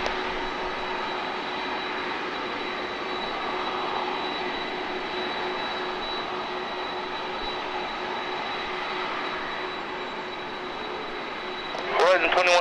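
Airliner jet engines roar steadily during takeoff from a San Diego runway, a broad sustained rumble with a thin whine, heard from a distance with a brief burst of nearby noise at the end.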